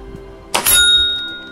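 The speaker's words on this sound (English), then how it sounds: "Ring that bell." An air gun pellet strikes a metal bell target with a sharp thunk, and the bell rings out bright and clear, then decays slowly over about a second; close and loud, with no talk.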